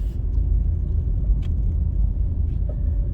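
A car drives slowly through the streets of the Harbour View housing scheme in Kingston, Jamaica, giving a steady, close, low engine rumble and road noise with a few faint higher sounds in the background.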